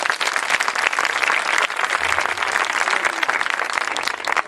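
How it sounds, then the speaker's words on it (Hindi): Applause from a church congregation at an Easter program, a dense, steady wash of clapping lasting several seconds at a fairly close, even level. "यीशु के लिए जोरदार तालियां।"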